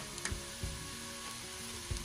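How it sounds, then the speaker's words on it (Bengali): Onions and chilies fry in a pan until nearly browned, producing a soft, steady sizzle with a few dull thumps of stirring, quiet and close, with no voices. "পেঁয়াজটা মরিচটা একদম ভাজা ভাজা হয়ে এসেছে"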